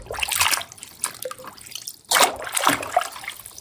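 A toy JCB vehicle is sloshed and rinsed in water, with irregular splashing and trickling bursts broken by a short quiet gap, close and moderately loud.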